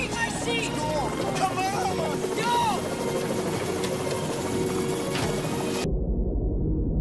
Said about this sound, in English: Oh my gosh, so many helicopters.